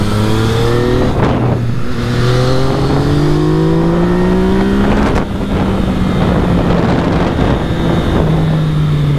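A car's engine revs hard and rises in pitch while it slides sideways in a drift, traction control at one and fresh tyres, loud and close, with heavy wind buffeting throughout and no talk.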